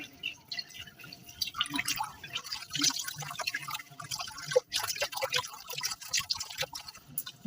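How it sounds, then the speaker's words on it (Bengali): Hands being rinsed with fresh water give close, quiet splashes and irregular drips that trickle on and off. "তারপরে ফ্রেশ জল দিয়ে হাতটাকে ধুয়ে ফেলব"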